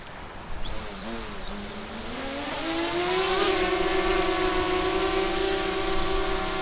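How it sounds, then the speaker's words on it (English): A DJI Spark drone's motors spin up and whine steadily, the pitch rising and holding as it launches and flies nearby, loud and continuous with no talking. "All right, once we have that, we're gonna launch the drone."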